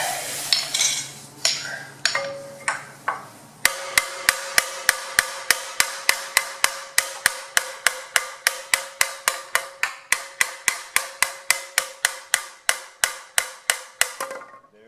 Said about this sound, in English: Let me get a little hammer.